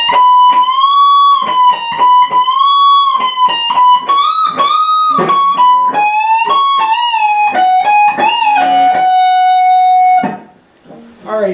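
Electric guitar plays a solo lick, with a bend and release and a pull-off, a loud, clear single-note line of quick picked notes and sliding pitch ending on a held note, with no talk over it.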